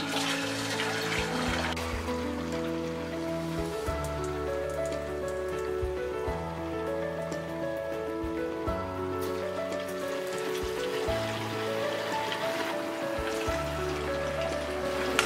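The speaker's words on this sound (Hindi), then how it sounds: "अब हम ये साबूदाना वड़ा डीप फ्राई करेंगे।" Sago vada patties deep frying in a kadai of hot oil, a steady dense crackle and sizzle like rain, continuous and close with no talking.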